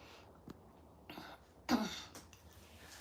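A person clears their throat once, close and fairly quiet, with a few soft breaths and small noises around it.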